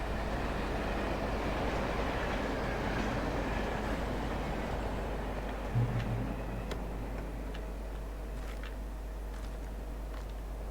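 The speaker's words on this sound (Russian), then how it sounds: "О, поезд." Train passing in the video game Alan Wake Remastered: a steady low rumble with faint rhythmic clicking of wheels on rails, continuous and fairly quiet throughout, with a brief low thump midway.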